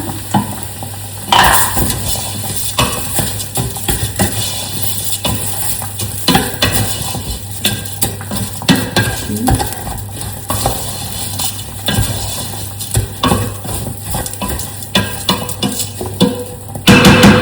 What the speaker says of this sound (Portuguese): Eu fritei o meu arroz.